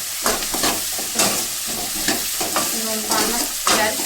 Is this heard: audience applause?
no